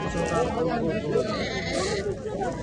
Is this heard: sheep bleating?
yes